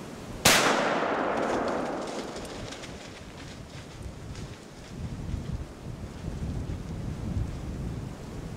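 A single sharp gunshot cracks out during a hunt outdoors, loud and close, then rolls away in a long fading echo, followed by faint rustling ambience.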